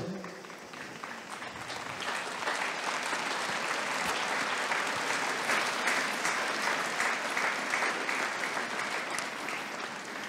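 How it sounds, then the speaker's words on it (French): A large audience at a youth festival gathering claps in sustained, dense applause that swells after a brief start and holds steady throughout. "C'est donc Marie et Jésus qu'il faut applaudir."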